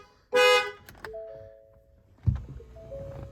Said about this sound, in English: The alarm started going off